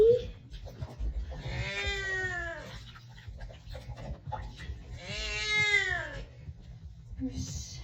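A foster kitten being bathed lets out two long, rising-and-falling meows close up, with a short squeak at the edges, over a steady low rumble of running water.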